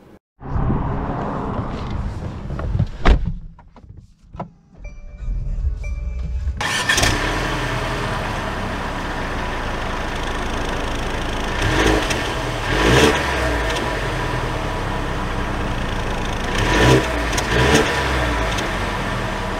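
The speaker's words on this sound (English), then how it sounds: "Setting off in the GLC 300." A 2022 Mercedes GLC 300 4Matic starts up with a few clicks and a cranking catch, then the engine settles into a steady close hum with light revving swells as the car sets off.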